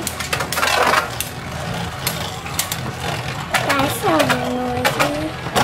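Beyblade Burst Turbo tops, Fafnir F4 against Rudr R4, launched and battling in a stadium: dense metallic clattering and scraping with a rising spinning whine, close and fairly loud, with voices in the background.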